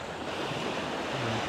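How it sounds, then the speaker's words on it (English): Ocean surf rolling steadily onto Long Beach on Phu Quoc Island, Vietnam, a soft continuous wash of waves with some wind noise and no voices. "Beautiful ocean."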